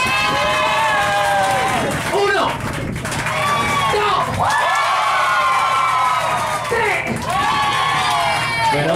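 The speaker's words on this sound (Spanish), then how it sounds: "El aplauso para la pareja número 3." Loud cheering, whooping and yelling from a crowd at an onboard rumba dance show greet a competing couple, rising and falling in several excited surges over continuous clamour.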